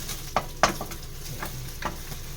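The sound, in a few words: egg being stirred and fried in a pan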